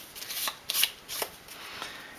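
Until Dawn board game cards being shuffled by hand, a few soft riffling bursts of papery flutter close up, with no one talking.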